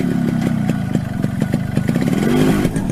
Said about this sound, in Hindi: Sit on my motorcycle.